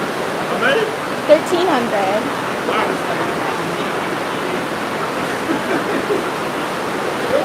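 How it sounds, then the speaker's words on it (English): Steady rain hisses loudly throughout, a dense wash of noise with a voice speaking briefly over it. "Sorry about the noise. We do have rain outside."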